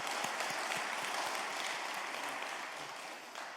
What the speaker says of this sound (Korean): 감사 박수 올립니다.